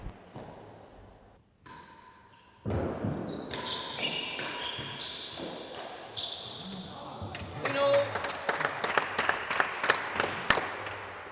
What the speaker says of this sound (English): I can't believe they've got more applause for that